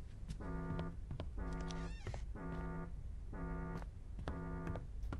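A cat meows in a video game: five evenly spaced, tonal mews repeat over a constant low background hum at moderate volume.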